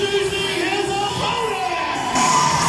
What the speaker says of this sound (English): And listen to the ovation